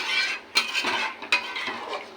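A spoon scrapes and clanks around a pan of chicken kosha with fried potatoes, two sharp metallic knocks among steady scraping strokes and a faint sizzle, close and clear.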